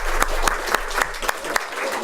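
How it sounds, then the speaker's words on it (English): Audience applause at a community talk, a steady patter of hand claps with a few sharper individual claps standing out, moderately loud and continuous for a couple of seconds. "yes, we should clap."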